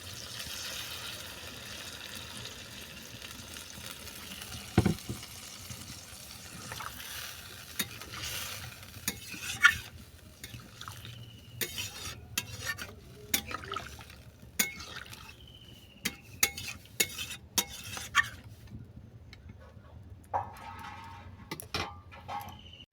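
Chicken curry cooked with taro simmers and sizzles quietly after water goes in, and a spoon stirs the pot with many irregular scrapes and knocks that grow busier in the second half, close and without speech.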